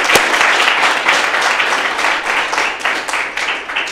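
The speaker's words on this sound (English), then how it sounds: "Let's give them a round of applause." Audience applause for a student's mom and dad at an 8th grade speech event at Buckley Country Day School, a steady room-filling wash of many hands clapping that holds for several seconds with no talking.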